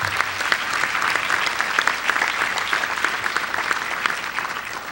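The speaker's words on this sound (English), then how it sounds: "Let's give everyone a big round of applause." A large audience at an evening charity benefit gala breaks into a big round of applause, loud dense clapping sustained evenly for several seconds.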